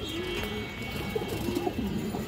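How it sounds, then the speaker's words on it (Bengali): A male and female pigeon pair cooing together, soft low throaty coos repeating steadily up close over a constant background hum. "এই যে পেয়ারটা দেখেন মাশাআল্লাহ, এটা মাদি কবুতরটা দর্শক, এটা নর কবুতরটা দেখেন।"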